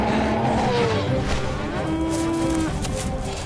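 A cow moos loudly and at length in a tense Jurassic World horror short film, its low drawn-out call rising and wavering over a steady rumbling background.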